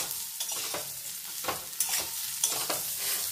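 Carrot, papaya and masoor lentils frying together with cumin powder, stirred in a steady run of scraping strokes over a low, constant sizzle, heard up close with no voices.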